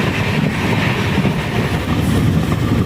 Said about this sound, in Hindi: अपनी ट्रेन बिचपुरी स्टेशन को स्किप करते हुए